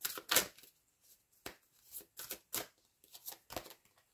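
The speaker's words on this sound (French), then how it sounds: "Une dernière carte, s'il vous plaît." Oracle cards shuffled and drawn by hand, a run of soft, papery riffles and flicks spaced irregularly, quiet and close, with no voices.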